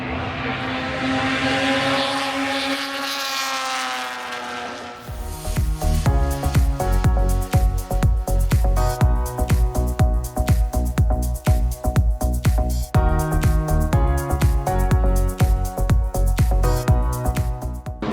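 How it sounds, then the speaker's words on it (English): Race cars at the Silverstone circuit during a festival race roar past loudly, first a rising engine whine building toward the listener, then a dense, sustained, rapidly pulsing engine drone that stays loud for the rest of the clip. "I'm not using the mic just so you can hear these cars coming around here"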